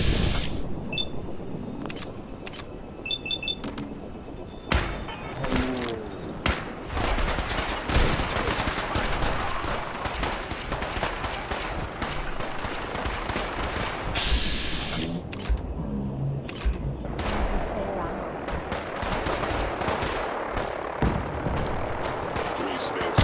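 Fallout 4 combat rattles with rapid bursts and single cracks of gunfire scattered through a long firefight, loud and near. Shots, impacts and game effects overlap, and a voice speaks at moments under the shooting.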